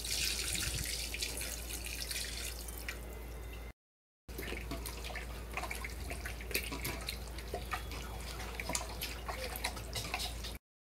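Hot water from boiling rice streams and splashes while being poured for a chicken biryani, a fairly faint running-liquid sound broken by a short gap, with no talking.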